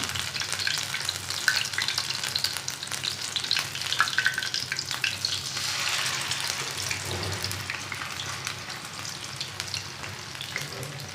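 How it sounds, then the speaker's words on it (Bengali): Taro (kochu) fritters deep-fry in plenty of hot oil, giving a steady dense sizzle and bubbling with occasional crackles that continue without a break throughout. "এইভাবে আমি সবগুলো ভেজে নেব"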